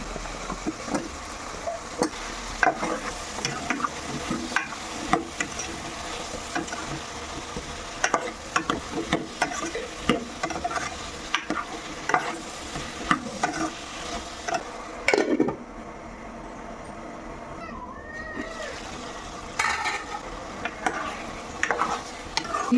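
Cucumber pieces cook in a pan with onion, chillies and tomatoes, giving a steady close sizzle with frequent scraping and stirring clicks from a utensil, and no voices.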